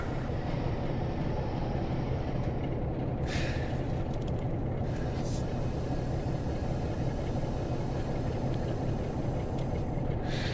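A train rolls along the Fleetwood Branch Line near Blackpool in Train Sim World, a steady, close, continuous rumble and engine drone with brief hissy bursts over the top.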